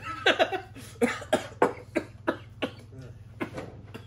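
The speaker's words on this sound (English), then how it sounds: "that cough made it worse" Someone coughs repeatedly at close range, a dozen or so harsh bursts in an uneven series, one after another.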